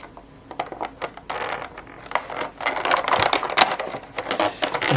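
Close-up cutting of a McFarlane Gold Label Blood Angels Primaris Lieutenant figure's box and plastic packaging with a large pair of scissors: scattered sharp snips and crinkly crunches that start sparse and grow busier and louder.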